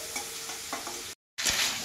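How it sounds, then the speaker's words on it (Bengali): Drumsticks and fish fried together in one pan make a dense, close sizzle, briefly cut to silence, then returning as a brighter, louder spatter. "এবারে একসাথে আমি ভাজবো"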